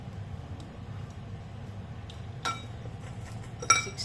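Utensils clink twice, lightly and close, while a kale quinoa salad with tofu is mixed, against a quiet room hum.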